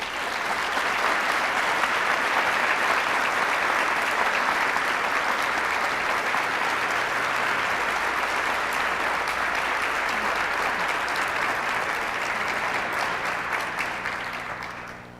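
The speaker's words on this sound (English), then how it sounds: "let's have just a long round of applause for Judith and her family and her history" A large audience gives a long round of applause at a community event, loud, sustained clapping that holds evenly for about fifteen seconds before tapering slightly at the end, with no voices over it.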